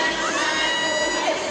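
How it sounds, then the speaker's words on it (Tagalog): Fans screaming and cheering loudly as the cast of a GMA romance drama series visits Davao City, a dense, continuous crowd roar of high shrieks and shouts with no pauses. "Todo hiyawan ang fans nang bumisita sa Davao City ang cast ng GMA romance drama series"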